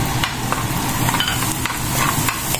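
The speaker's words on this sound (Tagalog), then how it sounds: "Ayan, sute na po natin siya ng saglit. And then, sunod naman natin ilagay itong ating onion." Garlic and then onion sautéing in a pan, a steady close sizzle with scraping stir strokes across the whole stretch, no voices.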